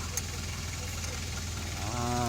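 Car engine idling after repair, a low steady rumble with a rhythmic pulse, joined near the end by a rising whine as it revs slightly; a voice is briefly heard.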